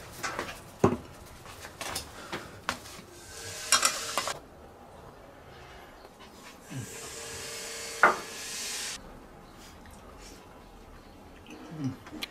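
Twice-cooked pork with chili peppers stir-fried in a wok: scattered scrapes and knocks of a spatula over a soft sizzle, with a couple of louder bursts of hiss, no talk.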